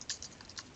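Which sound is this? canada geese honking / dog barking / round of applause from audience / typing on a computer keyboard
typing on a computer keyboard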